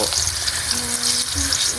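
Banana slices frying in hot oil give a steady, close sizzle with crackling and faint stirring, and no voices are heard.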